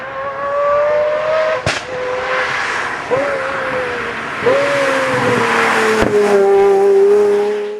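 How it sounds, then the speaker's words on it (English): High-pitched Pagani Zonda engine revving loudly, its wail rising and falling, with a few sharp mechanical clicks and a brief tire squeal. "there is no denying that a Zonda sounds incredible"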